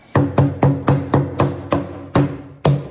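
About nine sharp metallic hammer blows strike the hollow oil pan of a Mopar 383 big-block engine in a quick, fairly regular rhythm, each ringing briefly, close and loud.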